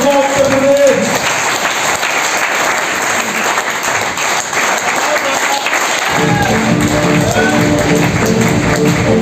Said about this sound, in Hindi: अब तालियां बजाओ ढंग से इसके लिए